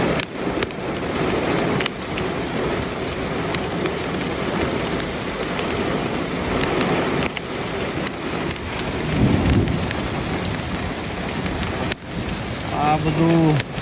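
Heavy rain pours steadily during a thunderstorm in Perth, with rumbles of thunder rolling through a dense, loud wash of rainfall.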